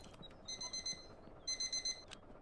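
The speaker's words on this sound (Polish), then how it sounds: "A patrzcie, ten budzik teraz będzie dzwonił nam." Alarm clock ringing in the video game My Winter Car, two distinct bursts of rapid repeated electronic beeps, each about four pulses, fairly quiet against faint room background.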